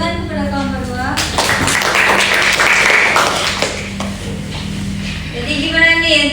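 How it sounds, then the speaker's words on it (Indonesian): Classroom applause for a student who has just answered a question, a burst of many hands clapping that starts abruptly, holds steady for several seconds and fades, with voices in the room before and after. "Tepuk tangan kepada kawan Marwa."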